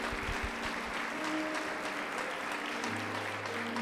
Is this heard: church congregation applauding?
yes